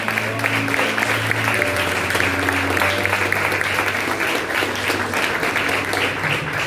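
A church congregation applauds loudly during an evening worship service, dense steady clapping filling the room throughout with a faint voice and sustained tones underneath.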